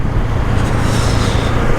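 Steady, loud road traffic rumble from a slow-moving street, heard from a Bajaj Avenger motorcycle while riding, a constant low drone with no voices.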